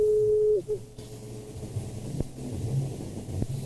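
A telephone call rings out while someone waits for an answer: a brief steady electronic tone cuts off early, then a low rumbling background with faint clicks carries on and no one speaks.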